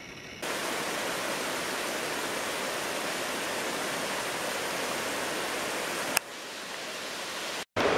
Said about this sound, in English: you hear it for a little while, but this Enlow Creek, which the trail is going to follow down for a while, starts right about there